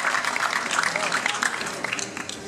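Audience at a film festival award ceremony in Mar del Plata claps steadily, a dense, sustained applause from a large crowd that holds throughout.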